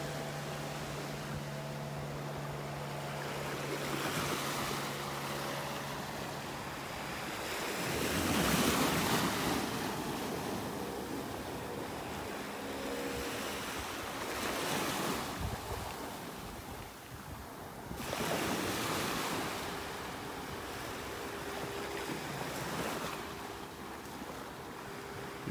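Ocean waves wash onto the beach at Delnor-Wiggins on a warm morning with the tide going out, a steady surf with swells rising and falling, mixed with wind noise on the microphone.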